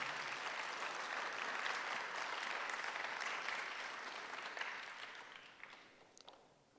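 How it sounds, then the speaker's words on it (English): A packed hall applauds at the Garnet Health Medical Center 2022 resident graduation and awards ceremony, a thick wash of clapping that holds steady, then tapers off over the final seconds. "Let's have a nice round of applause for everyone."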